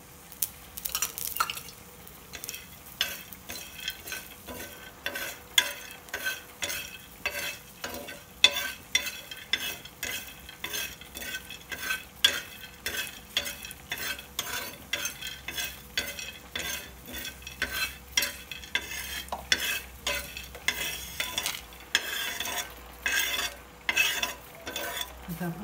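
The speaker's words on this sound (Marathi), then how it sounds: "आता आपण याच्यानंतर फुटाणे भाजून घेऊ।" Chickpeas (futane) roast in a pan with a little oil, making a busy run of rapid clicks, scrapes and stirring rattles that carry on for the whole stretch at a moderate, close level.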